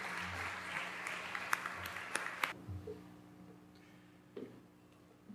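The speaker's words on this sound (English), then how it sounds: "Join me in thanking them with a round of applause." A luncheon panel audience claps briefly at first, fairly faint and distant, with a few sharp individual claps before the applause fades into quiet room noise.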